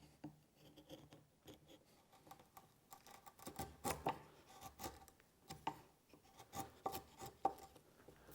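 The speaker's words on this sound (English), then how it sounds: "now I'm going to use a chisel to just start peeling away the waste from there" A chisel pares waste from a wooden shop-made tool, giving a series of short, dry scraping and rasping strokes at close range, irregular and fairly quiet, with no talking.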